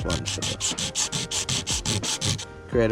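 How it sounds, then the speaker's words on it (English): Sandpaper rubs back and forth over a damaged surfboard ding to roughen it before a resin repair: about a dozen steady, evenly spaced scraping strokes, close and fairly loud, with no talking. "Sand this down a bit."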